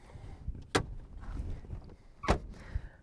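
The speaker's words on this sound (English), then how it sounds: "Even the center console door, which I believe can kind of be a bit of a problem on some of these cars." The center console lid of a 2002 Porsche 911 GT2 (996) is worked, giving two sharp, close clicks about a second and a half apart over quiet cabin ambience.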